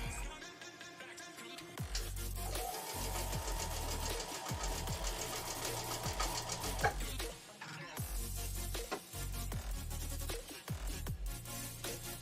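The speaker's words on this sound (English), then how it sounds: "Now we're going to go do a little bit of sewing here" A sewing machine stitches in repeated runs, a steady mechanical whirring and knocking hum that stops and restarts several times, close and moderately quiet with no talking.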